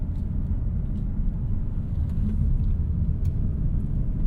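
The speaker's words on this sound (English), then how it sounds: "It does have the pumped-in engine noise." Steady low engine rumble heard from inside a moving 2024 Mazda CX-30, a constant droning hum with road noise and no talking.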